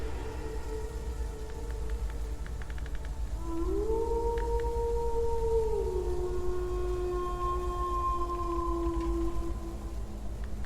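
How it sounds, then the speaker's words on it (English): Wolves howl off in the distance as a tabletop fantasy game sound effect at sunset, long rising and gliding wails layered over a steady low ambient rumble, with no talking. "wolves begin to howl off in the distance"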